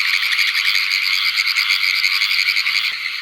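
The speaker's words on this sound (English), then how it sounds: "This is a gray tree frog." A gray tree frog trills loudly and close up in a steady, fast, continuous run that holds for the whole stretch with no other sounds.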